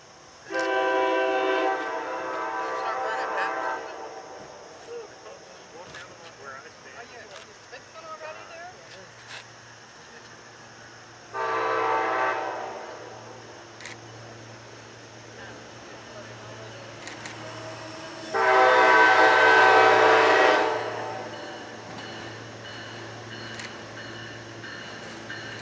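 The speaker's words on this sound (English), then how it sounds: "the train appears out of almost nowhere" A train horn sounds three times in long, loud blasts, separated by pauses, over a low rumble of a train passing a station in fog.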